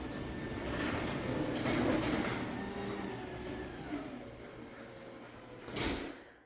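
Two garage doors run on newly installed openers, producing a steady, quiet rumble of travel that fades slightly, with a brief louder clunk near the end as a door stops.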